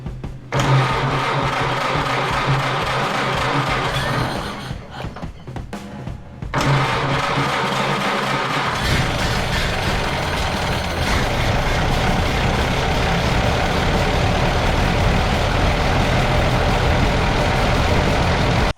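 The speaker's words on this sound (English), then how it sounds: "Well, as you can see, got the Model A running." A 1929 Ford Model A engine with a freshly rebuilt distributor and carburetor cranks, catches and runs, a loud close rumble that dips briefly before settling into a steady idle.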